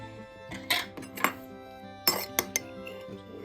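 Homemade pizza sauce and hot peppers get stirred together with a utensil in a bowl, giving several sharp clinks and scrapes separated by quiet pauses, close up with no voices.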